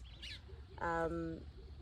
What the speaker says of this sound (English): in South Africa when you hear these birds, right?